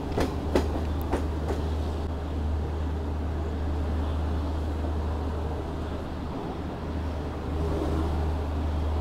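The 22410 Anand Vihar–Gaya Garib Rath Express runs at Sasaram Junction railway station in Rohtas district, Bihar. A heavy, continuous low rumble carries on throughout, with a few sharp clicks early on and no speech.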